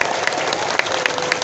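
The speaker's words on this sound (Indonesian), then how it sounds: "Tepuk tangan dulu buat Pak Kubu" Audience applause at an outdoor religious lecture gathering in a village, a steady dense patter of many hands clapping together with a few sharper claps, fairly close and without talk.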